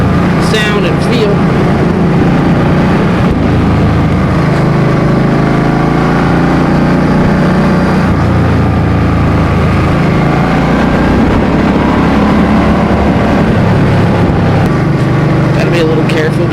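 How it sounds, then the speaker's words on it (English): A Suzuki M50 motorcycle engine drones loud and continuous while riding up a canyon road, under heavy wind rumble and with someone talking over it. "There's no tachometer on this bike, so you gotta do it all based on sound and feel."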